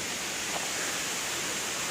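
Neer Waterfall near Rishikesh, Uttarakhand pours in a steady, dense hiss and roar, constant and close, with no other sounds standing out.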